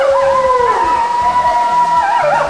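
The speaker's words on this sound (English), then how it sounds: "Listen to the red wolf howl." A red wolf howl rises and holds a long wavering tone, close and clear, at a zoo, with a second higher voice joining and a brief yip-like break near the end.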